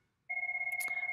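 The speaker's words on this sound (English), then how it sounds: "Oh, my phone is ringing." A telephone rings with a steady electronic warble that starts abruptly and continues, a clear two-tone ring heard alone in a quiet room.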